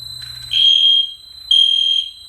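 Airosphere horn strobe fire alarm sounding two loud, piercing electronic horn blasts about a second apart over a low background hum.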